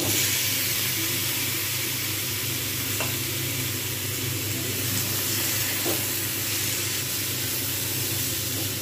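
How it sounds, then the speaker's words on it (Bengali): Boiled elephant foot yam pieces go into a pan of frying potatoes and chickpeas, bringing a steady close sizzle with soft stirring scrapes and no voices. "এবারে আমি এর মধ্যে দিয়ে দেবো সিদ্ধ করা ওলগুলো"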